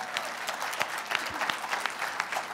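A conservative audience claps steadily at a live talk event, dense overlapping hand claps filling the room at moderate volume with no speech over them.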